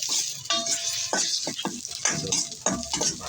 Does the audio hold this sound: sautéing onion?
yes